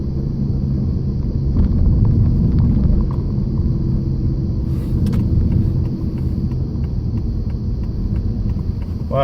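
A Volvo car pulls away in third gear with a steady, loud low rumble. The engine labours and stays constant throughout, with faint interior noises on top.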